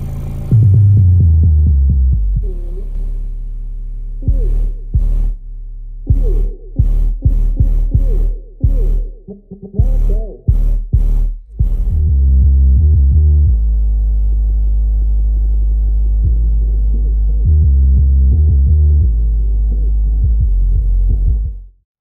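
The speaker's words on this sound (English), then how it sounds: "Now, we're gonna do subwoofer tests next. Let's see how each of these amps sounds." Subwoofers powered by NVX MVPA1 and VADM1 micro amps on a test bench boom with deep bass tones, first in choppy pulsing bursts and then as a long, loud sustained low hum.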